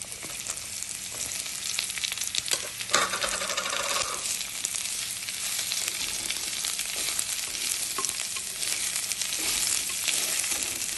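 Chopped shallots sauté with garlic and ginger in a pan for a Kerala-style roasted-coconut chicken curry, giving a steady close sizzle broken by a few sharp clinks and scrapes of the spoon, with no talking.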